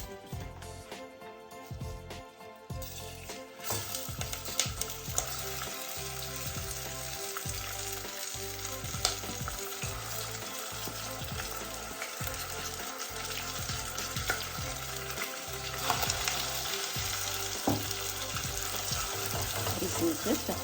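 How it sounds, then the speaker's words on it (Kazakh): Washed rice tipped into hot butter sizzles loudly and steadily, a dense frying hiss with repeated scraping stirs against the pan running throughout, close and without talk. "Рисімізді ыстық майға, қуырылып тұрған ыстық майға салсаңыздар"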